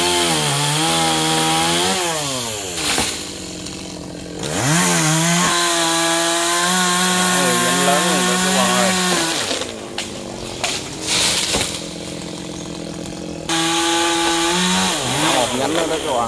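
A chainsaw cuts into a large khaya tree outdoors, its engine loud and close, revving up and bogging down through several cuts with brief idle pauses between, while someone talks over it.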